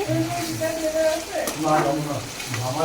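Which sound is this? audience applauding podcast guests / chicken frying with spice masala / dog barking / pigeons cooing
chicken frying with spice masala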